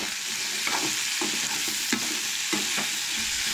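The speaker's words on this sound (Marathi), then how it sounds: "आनी कांदो बरो भाजून घेवंक जाय." Onions fry in a pan for Goan-style chicken, a dense continuous sizzle up close, with intermittent clicks and scrapes from stirring spaced through it; no one speaks.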